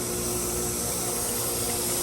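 Pool pump drawing water in for algae cleanup, giving a steady close hiss and sizzle with a low motor hum underneath, constant throughout with no talking.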